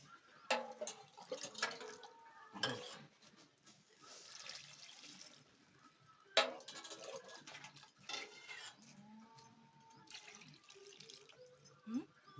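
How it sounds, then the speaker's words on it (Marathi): Water is poured into a pot for a crab curry cooked over a wood-fired stove, with intermittent splashing and trickling bursts and a few faint clatters, close by. "मित्रांनो आता आपण पाणी ओततो त्याच्यात"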